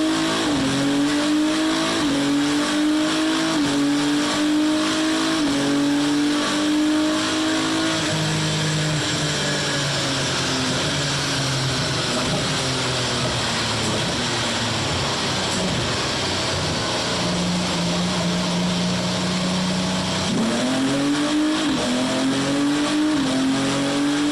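A car engine revs loud and close without pause, its pitch climbing and dropping through repeated clutchless auto flip downshifts, with a brief tire squeal.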